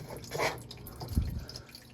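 Water dribbles from the drain filter of a Whirlpool washing machine, a few faint drips and a soft splash near the end of draining, quiet and close.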